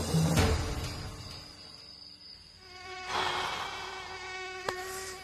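Mosquitoes whine with a thin, steady, high-pitched drone that swells and fades, accompanied by a brief thump near the start and a sharp click later on in a quiet room.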